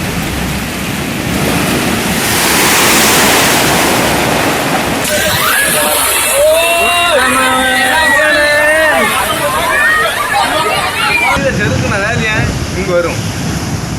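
Rough sea waves crash on a beach where country boats and catamarans sit along the shore, a loud continuous roar of surf and wind, with a news voice speaking over the second half.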